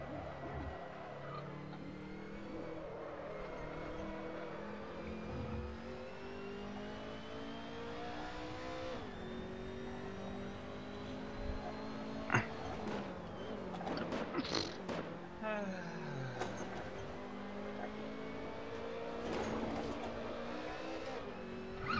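Car engine in the Assetto Corsa racing game revving hard and roaring steadily while the car drifts, with pitch rising and falling through gear and throttle changes, loud and continuous throughout.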